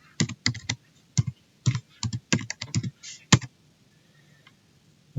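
Quick bursts of keystrokes on a computer keyboard as a passphrase is entered, crisp close clicks in short uneven clusters with gaps between them, the last few taps spaced out before quiet.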